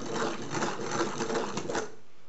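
Electric whisk beating egg whites for a raspberry and almond cake, a steady buzzing whir with rattling pulses for about two seconds before it switches off.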